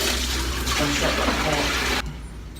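Steady, loud water rushing into an axolotl tank, broadband and continuous for about two seconds before cutting off, leaving a quieter room tone.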